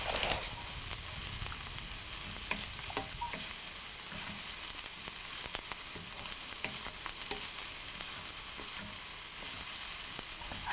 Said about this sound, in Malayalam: ഇതിലോട്ടിനി നമ്മൾ എടുത്തു വെച്ചിരിക്കുന്ന ചിരകിയ നാളികേരം ഇട്ട് നന്നായിട്ട് ഇളക്കി യോജിപ്പിക്കുക.